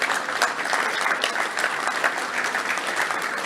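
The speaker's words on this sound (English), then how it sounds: "Let's give a round of applause for Hazel back there" A luncheon club crowd claps in a birthday tribute to an 80-year-old woman, a sustained, fairly even burst of applause lasting several seconds with no voices over it.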